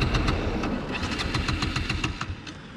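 A Bajaj Pulsar NS200 motorcycle with about 30,000 km on it is cranked in an attempt to restart it after stalling, a fairly faint, close mechanical churning with rapid rhythmic clicks over a low rumble.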